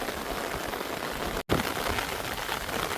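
Heavy rain pours steadily during localized flooding in New Braunfels, Texas, a dense hiss of drops on hard surfaces, with one very brief dropout partway through.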